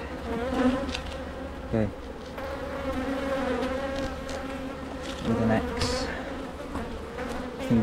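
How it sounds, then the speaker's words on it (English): Honeybees buzz thickly and continuously around an open hive during an inspection of frames, a close dense drone with pitch swells as they fly past, while a person speaks briefly. "There are bees now all over it."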